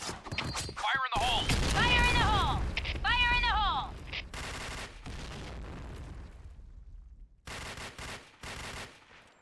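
Bursts of rapid AS Val rifle fire crackle in a video game, a few quick volleys after some voices and game sounds, close and sharp.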